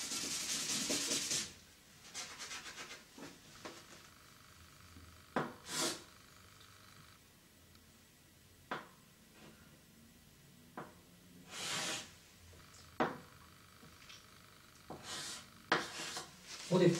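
Repeated short rubbing strokes of a whiteboard eraser during a high school trigonometry lesson, coming in brief bursts separated by pauses, moderately close and fairly quiet, with no talk over it.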